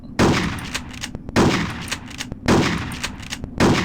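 Four loud shotgun blasts from the Hitman: Codename 47 weapon, about a second apart, each a sharp crack with a short decaying tail, filling the room-like game mix.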